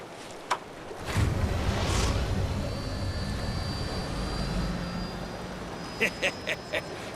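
An aircraft engine in Final Fantasy VII Rebirth starts up with a few sharp clicks before swelling into a loud, sustained droning roar that holds steady, then more clicks follow near the end.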